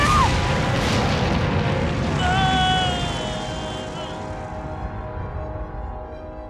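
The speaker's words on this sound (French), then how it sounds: "Explosion dans 10 secondes" A cartoon explosion goes off after a countdown as a big, loud, rumbling boom that swells and then slowly fades, with whistling tones rising through the middle of the blast.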